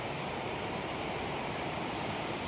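Mahogany Falls in Dingalan, Aurora pours steadily, a broad, even rush of falling water, constant and moderately loud with nothing else audible.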